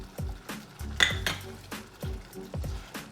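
Cayenne pepper being stirred into an onion sauce, a utensil scraping and clinking against a pot in repeated strokes at a steady rhythm, close and fairly quiet, with no talking.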